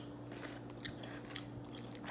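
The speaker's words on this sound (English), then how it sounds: "I really can't with you chewing in my ear." Close-up chewing of a pickle right at the microphone: wet crunching and biting bursts repeat irregularly over a low steady hum, quiet and intimate with no talking.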